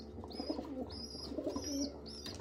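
Blue bar pigeons cooing in a loft, repeated soft coos with chirpy calls mixed in, close and steady, with no talking.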